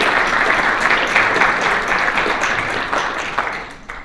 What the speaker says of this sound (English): Can we give Lacie a round of applause for that great presentation?